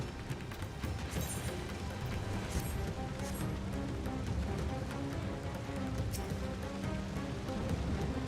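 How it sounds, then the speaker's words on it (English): Steady rain falling in the video game Final Fantasy XIV Endwalker, a dense, even hiss of drops that holds throughout under other game sounds and music. "That's rain!"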